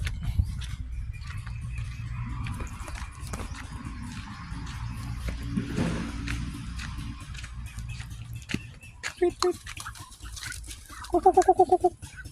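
Duck farm outdoors at midday, with scattered quacks and calls rising near the end over a steady background of ambient activity.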